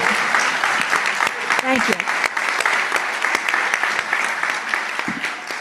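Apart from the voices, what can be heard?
applause at board of education meeting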